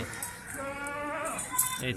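A goat in milk bleats in a wavering, drawn-out call over about two seconds, fairly close, with voices speaking around it.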